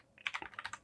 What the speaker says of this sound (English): hit Control F or Command F on a Mac and then type in color pass